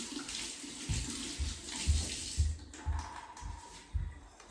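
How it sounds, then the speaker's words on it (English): Hands are washed under a running kitchen tap to clear off oil and seasoning. The water flows steadily, with soft splashing thumps as the hands move through the stream. The sound is fairly quiet and no one speaks. "So I'm just going to wash my hands from oil and seasoning."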